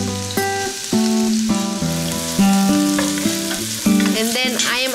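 Chopped onion fries and softens in a pan with garlic nearby, giving a continuous bubbling sizzle beneath louder background music that plays throughout.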